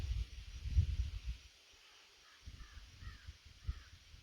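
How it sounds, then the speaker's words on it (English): A few hoarse caws from a crow at a distance in a garden, spaced out over several seconds, with low rustling and quiet outdoor background. "I hear one of our resident crows"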